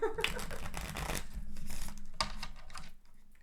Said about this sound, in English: Then I just shuffle until I feel it's right.